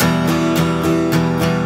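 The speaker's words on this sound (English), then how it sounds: "So like a straight eighth note pattern would sound like this." Guitar strummed in an even, straight eighth-note pattern: steady chord strokes about every quarter second, close, loud and machine-regular, with no voice.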